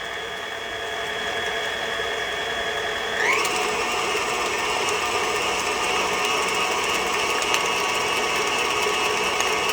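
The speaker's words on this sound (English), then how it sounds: "Now I'm going to turn this on and mix these together." An electric mixer runs steadily through gingerbread wet ingredients, a close mechanical whirring whine that shifts up in pitch partway through and then holds level, with no one talking.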